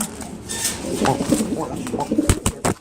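Soft, throaty cooing of a male Bombay pigeon rolls on continuously at close range, with a few sharp clicks and knocks in the background.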